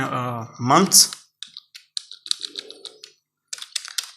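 Quick, uneven clicks of a computer keyboard while someone types in MS Word, with the keystrokes coming in short bursts and pauses after a brief spoken voice at the start.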